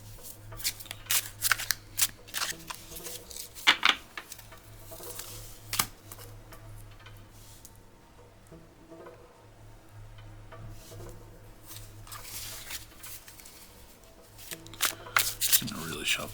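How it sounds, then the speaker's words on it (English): A tarot card deck is being shuffled, giving bursts of crisp riffling and card slaps that come and go over a steady low hum, loudest near the start and again at the end, with quieter stretches in between. "I'm gonna really shuffle it up."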